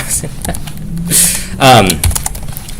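Computer keys clatter in quick irregular bursts, close and fairly loud, with a voice briefly sounding in the middle.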